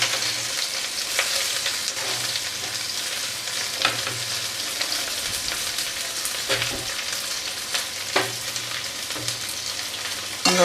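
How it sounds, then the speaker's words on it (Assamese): Chopped onions sizzle steadily in hot oil for a papaya dish, a dense continuous fry broken by occasional clicks and scrapes of stirring, close and loud with no talking. "এতিয়া পিঁয়াজখিনি দি দিছোঁ।"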